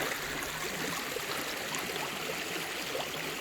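A creek in West Virginia flows steadily with a broad, continuous wash of running water, close and even throughout with no speech.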